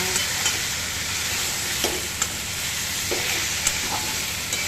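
Spices and vegetables sauté in a pan for Maharashtrian masale bhat, a steady broadband sizzle with occasional clicks and scrapes of a spoon stirring, close and continuous with no voices.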